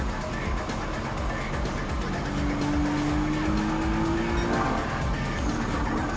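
A turbo sports car races around the Interlagos circuit in Gran Turismo 7, with a loud, steady engine note and a brief rising tire squeal or skid partway through, and a voice talking faintly underneath.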